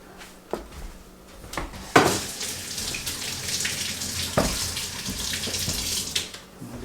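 A kitchen tap runs while vegetables are rinsed, with water splashing and breaking up in a sink and occasional knocks and clunks. The sound is close and continuous for several seconds, with no talk.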